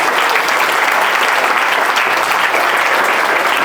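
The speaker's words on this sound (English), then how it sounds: "round of applause for them over here, guys" Steady, loud clapping from a comedy club crowd at a stand-up show in Amsterdam, continuous and evenly dense for several seconds with no talk over it.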